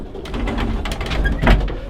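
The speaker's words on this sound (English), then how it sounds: "All these birds are Leslie's pigeons" Pigeons in a loft make soft cooing and rustling, with a few wing flutters and shuffles close by and nobody speaking.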